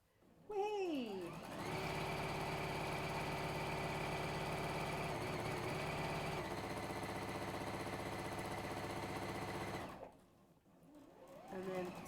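A sewing machine stitches fabric in one steady, loud run of fast mechanical whirring lasting about eight seconds, then stops, with a few faint sounds before and after.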